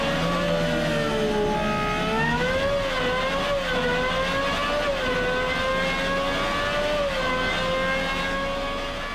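A Cosworth V12 in a Gordon Murray T.50 supercar revs hard toward its 12,100 rpm limit, a loud, continuous high-pitched wail that rises and falls in pitch across several sweeps, with no voices.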